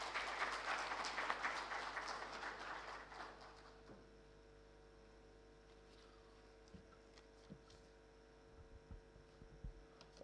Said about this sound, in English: Let's welcome Sir with a huge round of applause.